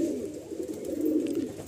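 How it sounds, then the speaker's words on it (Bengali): A Fulsira pigeon, a male kept among breeding pairs in a home loft, gives a soft, low, rolling coo close by, one continuous burbling phrase with no other sounds. "এটা হচ্ছে ফুলসিরা মাদা পায়রা"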